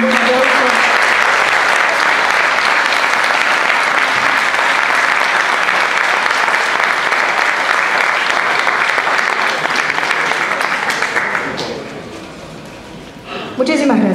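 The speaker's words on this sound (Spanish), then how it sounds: "arrancamos con un aplauso" An audience at a tribute ceremony claps loudly and steadily for about eleven seconds before the applause fades out, then a voice begins speaking.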